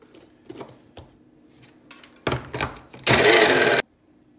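A small food processor blends speculoos biscuits in batches: a few short choppy pulses lead into one loud, sustained whirring burst of under a second that then cuts off abruptly.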